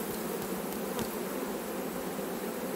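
A honeybee swarm buzzes steadily and densely around a bait hive set up to catch it. A couple of single bees pass close by.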